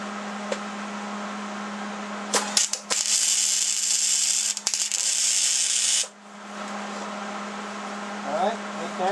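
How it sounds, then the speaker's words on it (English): Tack weld on the corner of a tab-and-slot steel welding table: a loud sustained buzzing crackle of a few seconds, broken by short bursts and pops, over a constant electrical hum in a workshop. "I'm going to do a tack weld right in the corner."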